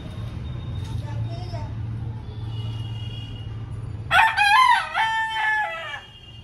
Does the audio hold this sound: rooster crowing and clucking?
yes